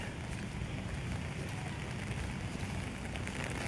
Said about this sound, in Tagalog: Umuulan, bigla umulan.